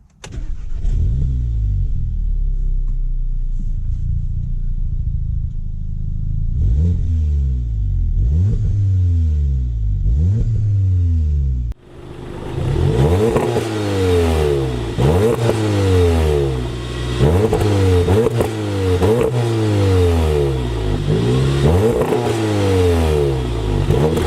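A 2014 VW Golf R MK7 with a non-stock exhaust and deleted middle resonator idles, then revs repeatedly in rising and falling sweeps. It turns louder and rawer partway through, with more revs close by.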